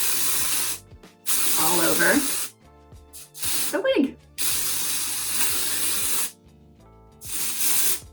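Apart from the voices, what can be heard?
spraying Tressalure dry shampoo on a wig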